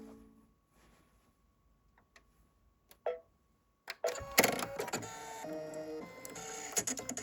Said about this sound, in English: when we press this, you will see that the needle will reposition itself and the presser foot will drop down